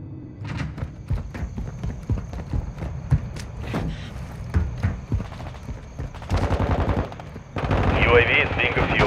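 Close, rapid automatic gunfire in the Call of Duty Modern Warfare II video game, dense bursts of shots alongside radio-style voice callouts, intensifying toward the end.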